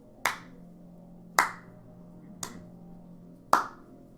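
Four slow, evenly spaced hand claps, each sharp and distinct with a short ring, against a quiet room hum.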